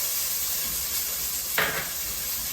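Onions dropped into a hot pan of olive oil, a sudden brief sizzle burst rising over a steady background hiss, close and moderately loud, with no talking.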